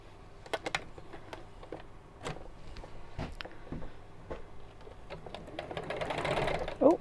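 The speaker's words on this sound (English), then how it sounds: "Right, and then we'll sew straight across here." A domestic sewing machine runs in short bursts then a longer steady run near the end, stitching a straight seam across fabric with a frill trapped in it, with someone talking between the bursts.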